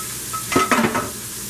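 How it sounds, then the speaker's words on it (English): Garlic, spinach and butter are stirred in a hot pan: a few quick, close stirring strokes and utensil scrapes over a steady buttery sizzle, with no voices. "Just mix that garlic and spinach and butter all around in there."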